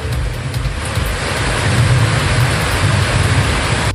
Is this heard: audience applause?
no